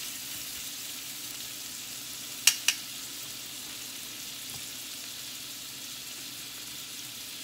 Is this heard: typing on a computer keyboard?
no